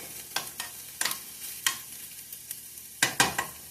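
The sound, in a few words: omelet cooking in a frying pan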